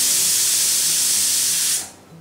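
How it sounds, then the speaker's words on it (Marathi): A pressure cooker on a gas stove, cooking coconut rice, lets out one loud, steady steam whistle that hisses continuously for nearly two seconds, then cuts off sharply, leaving a quiet kitchen. "एक शिटी झाली का आपण गॅस बंद करूया."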